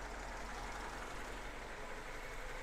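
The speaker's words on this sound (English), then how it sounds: "Great running engine." A 1977 Lada Niva (VAZ 2121) 4x4 engine idling in neutral in a shop, a steady, even, unbroken rumble with low-end drone and broadband hiss, no speech over it.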